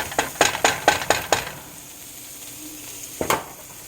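Sausage sizzles and fries in a pan under a steady hiss, with a series of rhythmic scraping stirs near the start and one more toward the end.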